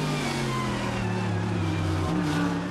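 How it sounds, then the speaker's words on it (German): A Mercedes GT race car pulls out of the pits onto the track during an ADAC GT Masters 2018 race, its engine holding a steady, loud droning tone that shifts pitch briefly near the end. "Pommer übernimmt das Cockpit von Götz, geht raus aus der Box und kehrt hinter Mike David Ortmann auf Platz 3 zurück auf die Strecke"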